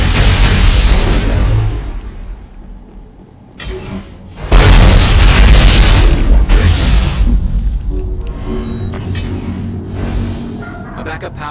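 A grenade blast in Mass Effect Legendary Edition, a deep, loud booming explosion with lingering rumble, followed by a second heavy burst and crackling debris while voices shout over the combat.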